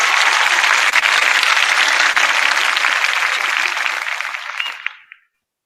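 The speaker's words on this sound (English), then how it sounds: "please share a big round of applause for SJKT Bayan Lepas Malaysia" An audience applauds an award-winning school, SJKT Bayan Lepas of Malaysia, at a SEAMEO-Japan ESD Award ceremony: dense, steady clapping that holds level for about four seconds, then thins and fades out, with a few last isolated claps.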